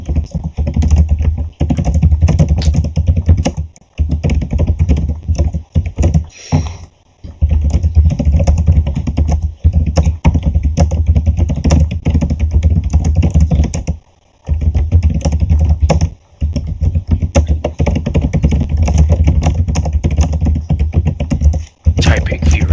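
An old, cheap computer keyboard clatters with rapid, loud, continuous typing close to the microphone, broken only by a few brief pauses.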